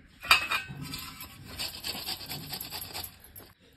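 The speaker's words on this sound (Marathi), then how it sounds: "आपल्याला ही दोडका असाच किसून घ्यायचा आहे" Peeled ridge gourd (dodka) is grated by hand, giving a close, scratchy rasp in quick repeated strokes, rough and fairly soft, with no voices.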